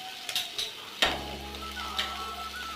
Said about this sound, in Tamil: இது ஒரு முட்டை ஊற்றிக்கலாம்